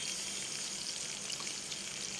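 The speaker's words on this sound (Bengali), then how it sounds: "প্রথমে আমি কড়াই তেল দিয়ে নিয়েছি তারপরে কালো জিরে ফোড়ন দিয়েছি আর পেঁয়াজটাও আমি দিয়ে দিলাম" Onion frying in oil in a wok with nigella seeds gives a steady, close, hissing sizzle that holds even throughout with no pauses and no voices.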